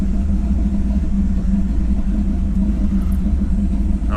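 A 1951 Chevy truck pulls under acceleration while driving, its engine giving a loud, steady low rumble that stays close and dense from start to finish, with no talking.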